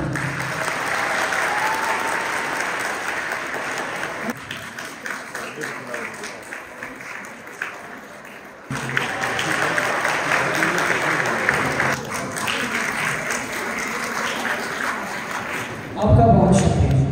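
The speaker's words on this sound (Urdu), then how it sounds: "آپ کم از کم تالیاں بجائیں" An audience at a school literary event claps for a student, a long wash of applause that dips and swells, with speech and some background noise mixed in and a sharper, louder burst near the end.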